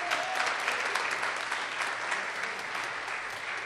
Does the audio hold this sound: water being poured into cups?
no